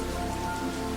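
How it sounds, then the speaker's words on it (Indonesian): Heavy rain pours steadily outdoors, a dense, constant hiss of drops on surfaces with no voices. "Hujan masih terus mengguyur tanpa henti."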